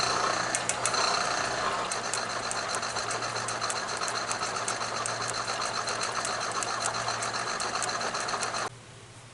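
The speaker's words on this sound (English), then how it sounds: "we'll just let it run and get that thing nice and flat and start taking the material off" A milling operation on a Clausing Model 100 lathe part held in a vise, a continuous loud mechanical whir with fast rhythmic ticking from the cutter, steady throughout before dropping off near the end.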